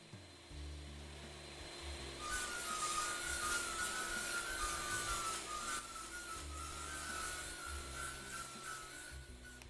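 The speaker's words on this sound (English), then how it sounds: "It's wood chopping." Wood chopping in the game Lumber Tycoon 2, a repeated rough rubbing, rasping grind with a low pulsing rhythm, growing slightly louder after the first two seconds and continuing steadily.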